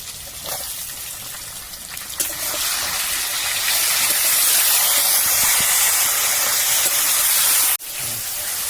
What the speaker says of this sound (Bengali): এবার এর মধ্যে এসে টমেটোগুলো দিয়ে দেবো